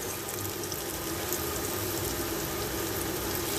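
Chicken pieces coated in a ready-made crispy mix fry in shallow oil, giving a steady, dense sizzle that carries on without a break and with no voices.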